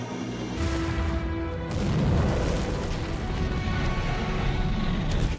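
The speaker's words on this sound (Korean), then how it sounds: "톰은 이 모든 흔적을 없애기 위해 가스밸브를 열어 포브스의 연구실을 폭발하려 합니다" A laboratory blowing up after a gas valve is left open, as a film sound effect: a deep booming blast that rolls into a sustained roar of rumbling debris and fire, loud and close.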